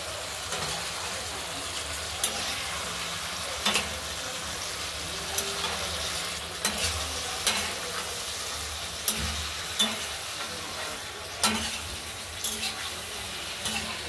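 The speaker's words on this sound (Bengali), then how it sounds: "পাতায় বাটা মশলা সুন্দর করে ভেজে সুন্দর করে তৈরি করা।" Leaf-ground spice paste for prawn curry fries in oil with a constant sizzle. Repeated spoon scrapes and knocks against the pan come every second or two, close and fairly loud, with no voice.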